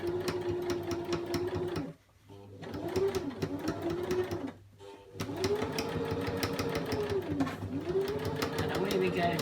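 Sewing machine stitching a cushion, running in steady bursts of rapid stitching with two brief pauses, close and loud, under a continuous background of talk.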